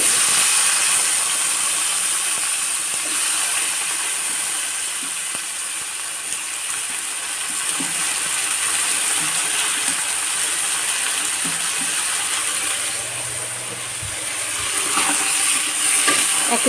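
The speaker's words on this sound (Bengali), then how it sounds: "পেঁয়াজের সাথে এটা আমি ভেজে নিব।" Fish frying with onions in a pan gives a steady, loud, broad hiss that runs throughout, dotted with faint clicks and small pops, with no one talking.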